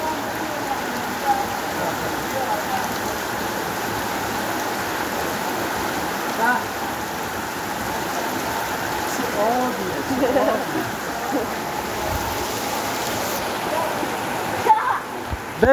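Kalat waterfall near Mashhad pours in a steady, loud, broadband rush of falling water that fills the whole stretch, with a brief knock near the end.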